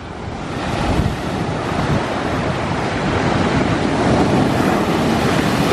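Large ocean waves break on the shore in Bali as a loud, continuous roaring wash of surf with heavy wind noise on the microphone and no talk.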